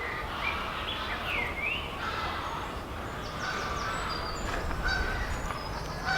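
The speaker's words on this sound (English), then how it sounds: "Listen to the birds." Geese honk repeatedly over a rushing outdoor background, their calls overlapping at a moderate distance, with other bird calls scattered through.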